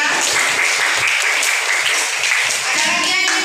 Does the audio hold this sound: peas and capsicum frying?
no